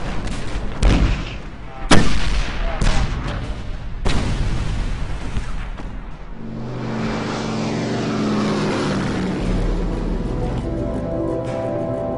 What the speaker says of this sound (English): It's awesome. A terrific barrage.